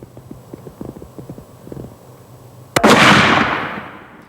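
A single sharp hunting rifle shot fired at a buck at the edge of a field cracks loud and close, then rolls away in a long fading echo after a stretch of faint low rustling.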